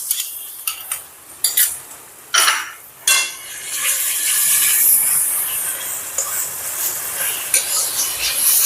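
Paneer masala sautés in a pan as sour yogurt goes in, opening with several loud clattering stirs and scrapes, then settling into a bright continuous hissing sizzle.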